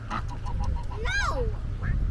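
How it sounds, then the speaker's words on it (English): Several large ducks at a zoo exhibit give loud, harmonic quacks near the middle, over a low steady background rumble and people talking. "Wow, that's some big ducks."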